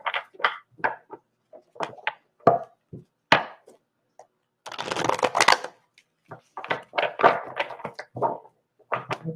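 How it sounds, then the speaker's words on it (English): Tarot cards being shuffled by hand during a live spirit reading, a run of crisp riffling and slapping bursts with a longer dense riffle in the middle, close and alone with no talking. "While I'm shuffling, think about it."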